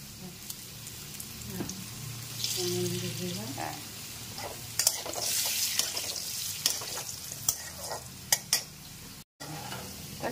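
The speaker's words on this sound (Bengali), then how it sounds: "নুন দিয়ে একটুখানি নাড়াচাড়া করে এটাকে তুলে নিচ্ছি" Fried potatoes tossed with salt in a pan, a close, steady scraping and stirring over a soft frying sizzle, with a few sharper utensil knocks near the end.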